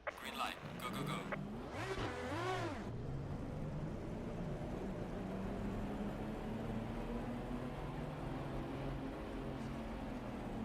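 GT4 race cars accelerating off the start at Paul Ricard in a racing game, engines revving up in rising sweeps, then a steady droning engine note; a voice talks briefly early on.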